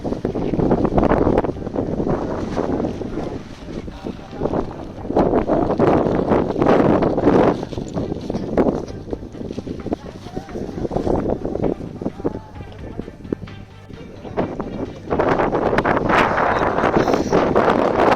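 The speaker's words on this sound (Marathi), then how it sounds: "एवढा वारा होता, जबरदस्त वारा" Strong gusting wind on a trek between the Alang and Kulang mountain forts roars against the microphone in heavy waves that rise and ease, loud and continuous with no talking.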